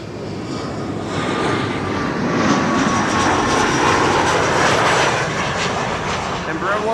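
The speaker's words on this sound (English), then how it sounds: "Embraer 190, no, Embraer 175 of course, arriving from Norwich" Embraer 175 jet arriving at Amsterdam Schiphol Airport, a steady broad engine roar swelling and holding loud before easing slightly, with faint talk underneath.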